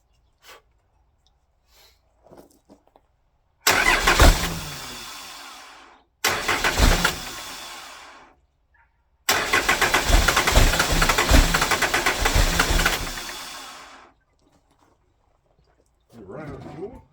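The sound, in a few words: 12 valve Cummins diesel engine starting and idling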